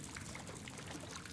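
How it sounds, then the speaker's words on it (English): Underground water trickles and pours steadily in a cold Antarctic cave in Call of Duty: Advanced Warfare, a faint, even wash of liquid with no talk. "We can try and follow the water through here."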